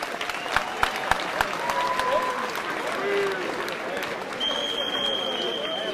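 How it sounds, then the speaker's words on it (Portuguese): Steady applause from a large outdoor crowd at a carnival ceremony in Torres Vedras, a continuous dense patter of clapping with a few sharper claps near the start and faint whistles toward the end. "Para eles uma grande salva de palmas,"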